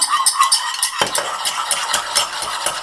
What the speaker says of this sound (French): Alors, je mélange vraiment bien.